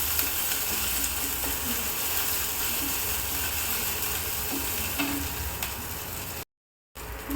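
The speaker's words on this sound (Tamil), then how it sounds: "இப்போ பச்சை மிளகாய், ஒரு பச்சை மிளகாய், கருவேப்பிலை, இஞ்சி இதை போடுறேன். இதை போட்டு நல்லா கிளறி விடலாம்" Green chili, curry leaves and ginger sizzle steadily in hot oil in a pan while being stirred, a low continuous fry with faint scraping, then a brief silent gap.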